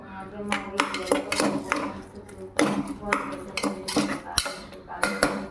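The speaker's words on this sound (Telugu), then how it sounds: "కొంచెం వేసేసి ఒక్కసారి మనం కలిపేద్దాము. బాగా కలిపేద్దాము." Clinking and scraping of a utensil stirring food in a metal pan, a dal dish with sorrel leaves, in an irregular run of close metallic knocks with a voice talking at times.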